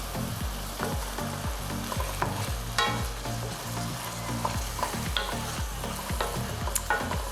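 Shiitake mushrooms cooking down in a hot pan, a steady loud sizzle with rhythmic stirring scrapes repeating throughout, no voices.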